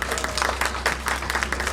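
An audience applauds to welcome a female singer onto a concert stage at a music event by Lake Issyk-Kul, a dense, steady wash of many hands clapping close by with no voices.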